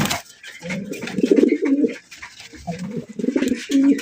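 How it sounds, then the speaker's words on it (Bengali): Racer pigeons, including a grizzle and a chocolate racer hen, coo in repeated throaty bursts close by, with soft rustling and an occasional bark far behind. "রেসার কবুতর দেখেন মাশাআল্লাহ।"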